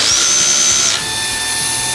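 A DeWALT DWH161N cordless rotary hammer drill starts up, a loud high whine with a steady motor tone that drops in pitch after about a second and keeps running close by, with no talking.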